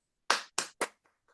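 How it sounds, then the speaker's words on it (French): Congregation in a church clapping, three short close bursts of applause in quick succession followed by a couple of faint trailing claps. "Applaudissons pour Jésus."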